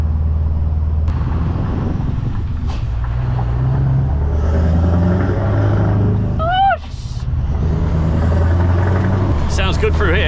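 A straight-piped V8 truck towing a trailer drives through the Dartford Tunnel, its exhaust a deep, continuous rumbling drone that fills the enclosed space, with a few brief squeaks and rattles over the top.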